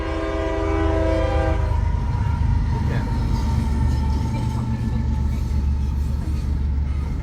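A train rumbles past close by, with a brief horn blast at the start over a heavy, continuous roar. A voice speaks briefly.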